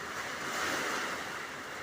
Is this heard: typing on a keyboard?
no